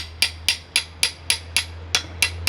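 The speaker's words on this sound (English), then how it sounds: "I'm stuck doing this as a hand drill, and here goes nothing." A hand drill works through Quigley shooting sticks, giving about nine sharp, evenly spaced clicking strokes over a steady low hum, close and fairly loud with no talking.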